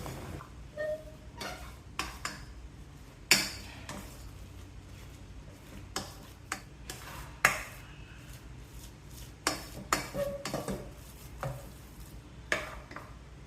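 A ladle mashing cooked basmati rice in a pot for sweet pongal: soft, irregular scraping and knocking with occasional sharper metal taps, close and moderate, no talking.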